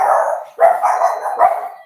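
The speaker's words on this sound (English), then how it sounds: "the doorbell rang and the dogs went running" Dogs bark in loud, repeated bursts right after a doorbell rings: a sustained bark, a sharp onset near the middle, and another strong bark near the end, all close by with no talking.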